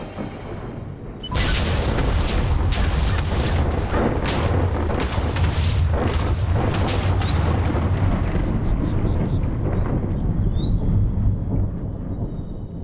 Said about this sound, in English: I brought one of those bombs down into the parasite biome, and then I detonated